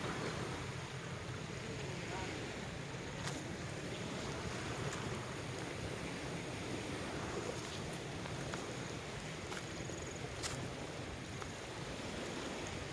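Steady surf washes continuously onto a beach at Poocan, Leyte, with constant wind buffeting the microphone over the whole stretch.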